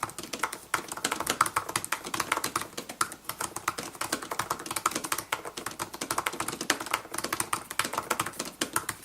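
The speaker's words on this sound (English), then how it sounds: "it is a bit noisier than some of Apple's previous keyboards, so I'll let you listen to it" Continuous rapid typing on a 2017 Apple MacBook Pro laptop keyboard, crisp clicky keystrokes in an uneven rhythm, close and fairly loud, with no talking.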